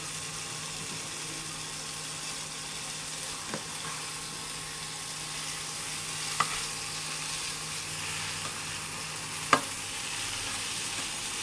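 Korat noodles and fried ingredients are stir-fried in a pan, giving a continuous hissing sizzle with a few sharp utensil scrapes or taps spaced several seconds apart, and no talking.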